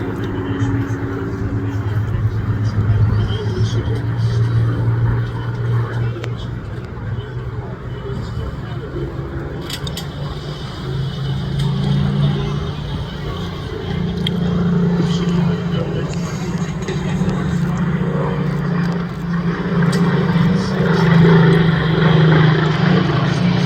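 Two Spitfire fighters fly a tail chase at an air show, their piston engines droning loudly and continuously overhead as the pitch rises and falls with each pass.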